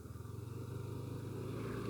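A motorcycle engine hums steadily with a low, pulsing putter as it rides along at moderate speed on a winding mountain road near Bukittinggi and Maninjau, close by, with no voices.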